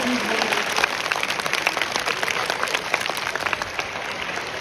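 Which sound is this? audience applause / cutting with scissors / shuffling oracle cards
audience applause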